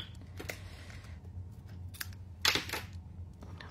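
Scissors snip through leftover paper scraps for a handmade Christmas card, a few sharp separate cuts close by, with one louder crisp snip followed by a short rustle.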